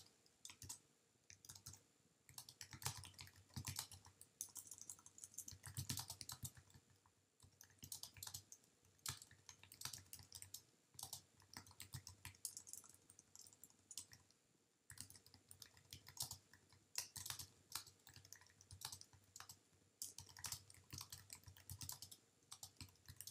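Steady typing on a computer keyboard, quick irregular clicks of keys in bursts with short pauses, close but quiet and heard alone without speech.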